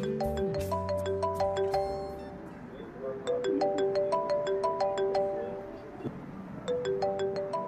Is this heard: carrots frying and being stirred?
no